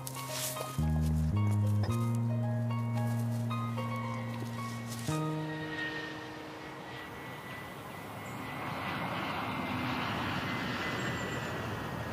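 An airplane near an airport runway: after a few seconds of sustained tones, a broad, steady roar rises and lingers at moderate distance, with no talking.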